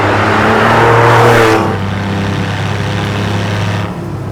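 A Porsche 911 GT ClubSport engine revs during heel-and-toe downshifting. It holds a loud, high, droning rev, then drops sharply and settles into a steadier lower engine note, with no talking.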